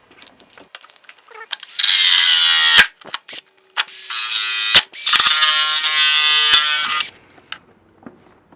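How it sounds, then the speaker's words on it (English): A power tool buzzes and rasps in three long bursts as it enlarges a hole in plastic so fan blades stop catching, with short clicks and knocks between the cutting runs. "I'm going to cut this hole bigger because I don't like the way these fan blades are catching on this plastic"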